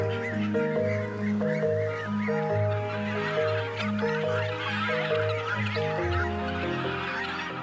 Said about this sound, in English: The chef wants to inspect the free-range Riegersburg geese himself